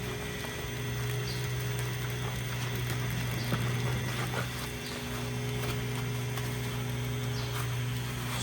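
A grinder is trimming a lame cow's hoof, giving a steady, loud motor hum with a constant whine and faint scraping that holds throughout with no pauses.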